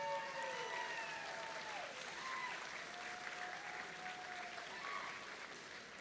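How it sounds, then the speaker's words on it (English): An audience at a district opening ceremony claps in a sustained, even round of applause that holds steady throughout, with no voices on top. "So please join me in giving them a round of applause."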